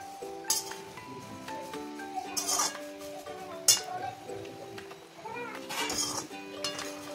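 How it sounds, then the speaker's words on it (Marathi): Onions are stirred and sautéed in a pan while a masala is made, with scattered metallic clinks and scrapes of a utensil against the pan under someone speaking throughout. "हा कांदा जो असतो हा असं परतून घ्यायचा"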